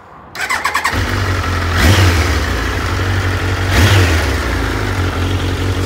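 A Triumph Daytona 1200 motorcycle with a starting and running fault cranks briefly and fires up, then its engine idles loudly on choke and revs twice in rising and falling surges.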